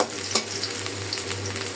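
Steady frying sizzle from a wok heated for cooking eel fish, with a brief louder spatter near the start, continuous and close with no talking.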